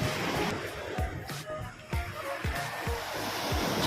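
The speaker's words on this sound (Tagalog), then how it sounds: "pahirapan yung pagdaong ng mga bangka kasi malakas ang alon" Waves wash and break against a nearby island shore on Balicasag Island, Bohol, in repeated surges of rough water, with a constant rushing hiss and no talking.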